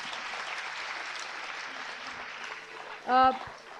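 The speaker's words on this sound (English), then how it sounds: "So again, a big round of applause, everyone." Audience applause at a school launch event for a sustainability and climate change education program, a steady broadband wash of clapping running throughout at moderate level, with a brief tonal burst near the end.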